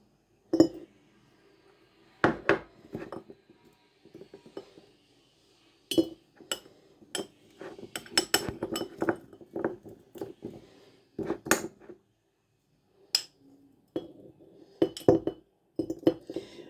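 Sharp metallic clinks of a spoon against a cocktail glass in irregular bursts, some rapid clusters, with short pauses between, close and fairly loud.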